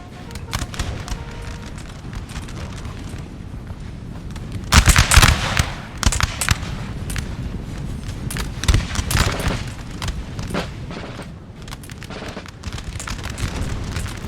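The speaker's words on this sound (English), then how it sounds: "hopefully this artillery here can, yep, swivel around, boys, and then prepare to fire" Artillery fires during a Battle of Borodino engagement in Napoleon Total War. Loud booms and crackling volleys of gunfire roll continuously over a rumbling battlefield bed, with heavier bursts standing out now and then.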